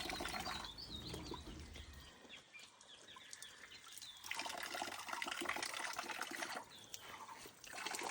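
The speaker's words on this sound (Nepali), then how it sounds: "यो चाहिँ बाटोको धारा।" Water running from a roadside spring spout in a village setting, a faint, steady trickle and splash with occasional bird calls in the background.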